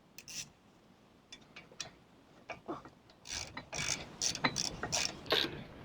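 A ratchet tightens the front brake caliper bolts on a Volvo S60 P2 during a disc and pad change, scattered clicks that build into rapid close ratcheting bursts, no talking.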